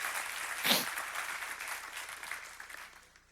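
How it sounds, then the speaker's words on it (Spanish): A church congregation claps for God during a sermon, a short burst of applause with one sharp accent early on, then fading away within a few seconds. "Dale ese aplauso a Dios."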